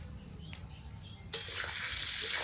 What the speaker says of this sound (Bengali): একটু মশলা ভেজে রাখছি গোটা জিরে গোটা ধনে কয়েকটা শুকনা লঙ্কা